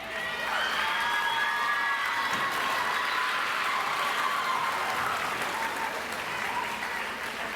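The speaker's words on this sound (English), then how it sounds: "Okay, we'll do applause here in just a minute" Steady, loud applause from an audience at a junior high school end-of-year awards assembly, with scattered cheers and children's voices in a large hall, lasting several seconds without a break.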